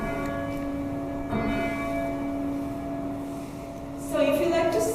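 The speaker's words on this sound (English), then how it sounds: "By pulling this rope, they ring a bell." A large bell in Switzerland, rung by pulling a rope, sounds with long, humming overtones, struck again partway through and once more louder near the end, the tone lingering between strikes.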